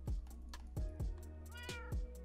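Several short meows from cats in the video game Minecraft repeat at an uneven pace, fairly close and clear over a low steady game hum.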